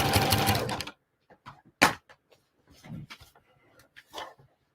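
A sewing machine backstitches a pillowcase seam: a dense second-long run of rapid stitching, then a few short separate bursts and faint clicks with quiet gaps between them.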